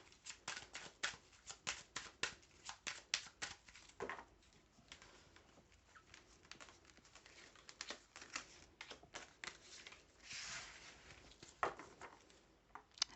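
Tarot cards are shuffled and drawn, making a run of soft, rapid flicking and snapping riffles in quick bursts with short pauses, close and quiet, with no voice over them.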